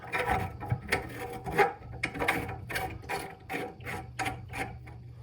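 A toilet shut-off valve stem is twisted back into its pipe, giving a close, quiet series of gritty ratcheting scrapes and squeaks in uneven strokes.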